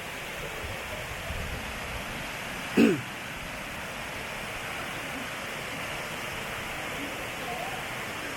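Materuni waterfall in Kilimanjaro gives a constant, even roar of falling water that fills the whole scene, broken only by one brief sharp click partway through.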